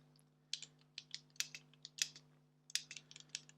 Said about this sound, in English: Typing characters on this keyboard should come out onto the serial terminal.